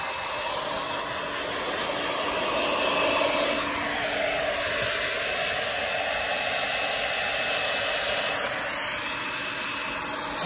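A blow dryer runs loudly and steadily, drying a buck goat after a bath in cool weather, its whooshing airflow shifting slightly in pitch as it moves.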